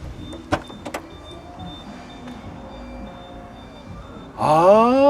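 A few clicks and soft knocks over a quiet hum, then the power tailgate of a Volvo V60 Cross Country wagon starts whirring open with a rising, steady mechanical drone.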